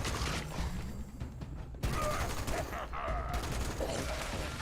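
Rapid bursts of gunfire from an anti-armor weapon in the video game Fallout 76, clustered shots with brief pauses between, moderately loud over game background noise.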